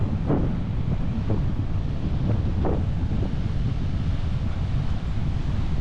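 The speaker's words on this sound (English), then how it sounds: "This wind is mental." Strong wind roaring against the microphone, loud and continuous, with a few gusty bursts early on.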